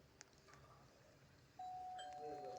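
A doorbell in a video game chimes once partway through, a clear sustained electronic tone ringing over quiet background hiss.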